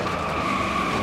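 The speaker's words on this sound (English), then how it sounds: "Man, I spun out again?" A race car skids with a sustained tire squeal while spinning out in NASCAR Heat 4, the screech steady and loud over the engine's rumble for a brief moment.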